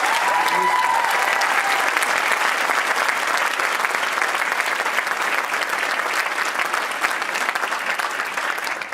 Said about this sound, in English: So a huge congratulations and applause, please, for the cast.